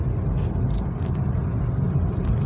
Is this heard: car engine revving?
yes